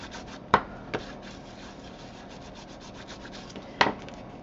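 Folded paper craft pressed down and burnished by hand, a close steady rubbing scrape with a few sharp taps and crinkles, no speech.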